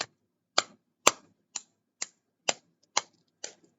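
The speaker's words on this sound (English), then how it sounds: "Now that's me spanking my arm." A hand spanking a bare arm: eight sharp, dry slaps about half a second apart, close and crisp, each cut short with no ring, and nothing else heard between them.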